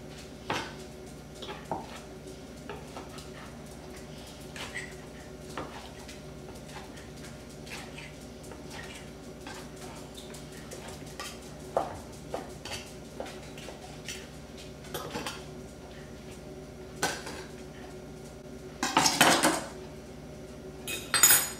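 A knife cutting cooked pork into pieces on a plate or board, producing quiet, irregular taps and clinks of cutlery against dishware over a low background hum, with a brief louder scraping clatter near the end.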